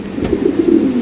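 Male pigeon cooing close up, a loud low throaty coo lasting about a second, alone without talk.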